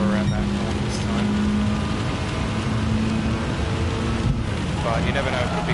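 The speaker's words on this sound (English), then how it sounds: "the rain's harder" Heavy rain hisses steadily over a Gran Turismo 7 race on the High Speed Ring, mixed with the drone of a Gr.4 Mitsubishi race car engine, loud and continuous.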